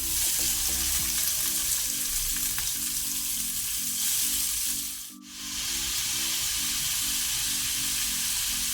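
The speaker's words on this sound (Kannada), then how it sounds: "ಈಗ ನಾವು ಈರುಳ್ಳಿಯನ್ನು ಒಳ್ಳೆ ರೀತಿ ಫ್ರೈ ಮಾಡುವ" Chopped onions fry in a pan on medium flame with carom seeds, a steady close sizzle running throughout with a brief dip midway, under a faint low hum.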